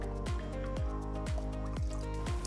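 Coral dip solution drips into a small tank holding four gallons of water, a treatment for torch coral with receding tissue. Liquid falls in regular drops, about two per second, over a faint steady hum.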